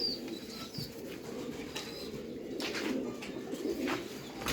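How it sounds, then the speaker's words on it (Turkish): Pigeons cooing in a loft, a breeding pair of smoky-grey birds, with soft repeated coos, a few chirps and brief wing flaps over steady low background murmur. "En kart kuşlarım."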